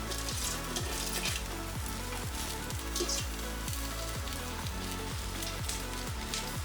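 Cabbage and carrots frying for yakisoba, a loud, steady sizzle crackling without a break, with repeated rhythmic scraping strokes as the vegetables are stirred in the pan.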